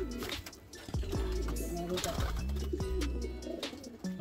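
A female pigeon flutters and scuffles while held in the hand, with coos and wing flaps close by and a voice talking over it.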